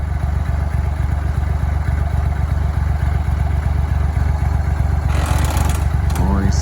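A tractor idles loudly and steadily as its power takeoff drives a potato digger's chain, and a rising clatter and whine join in near the end.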